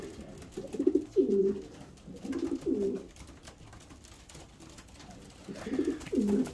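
Young pigeons cooing inside a loft, soft repeated low coos in several short bouts over a quiet room background, fairly close.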